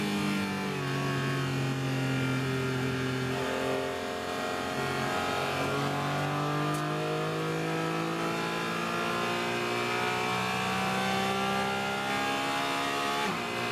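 Onboard a Trans Am Series race car at Sonoma Raceway, the engine revs loudly and continuously, pitch climbing and dropping through gear changes as the car laps, close and unbroken with no talk.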